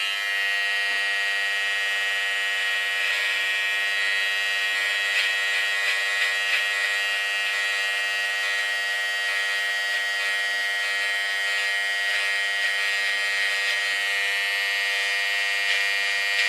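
A Wahl Detailer hair trimmer buzzes steadily and close by, a bright, constant electric whine holding evenly for the whole stretch with no pauses and no voices.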